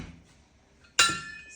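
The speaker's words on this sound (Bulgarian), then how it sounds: "Слагам капачето." A single sharp clink of a lid being set onto a glass French press coffee maker. It rings briefly, fairly close and alone, with faint background hiss beforehand.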